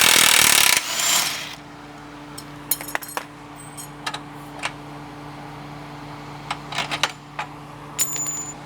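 A boxed end wrench works a 21 mm bolt off the lower outer radius rod of a Can-Am Maverick, giving sparse metallic clicks and clinks after an opening burst of noise, with a faint steady hum beneath.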